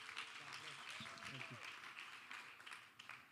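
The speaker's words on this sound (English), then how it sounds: "Clap your hands unto the Lord." Congregation clapping along at a church service, a steady broadband patter of many hands filling the room with voices mixed in.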